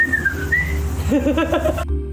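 A person whistles a short, warbling melody imitating birdsong, with sliding notes and quick trills close up. The whistling then stops abruptly.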